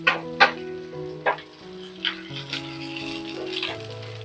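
Finely cut curry leaves and garlic fry in hot oil for a spicy coriander chicken, giving a soft, steady sizzle broken by a few light clinks of stirring, with a melodic tonal background running underneath.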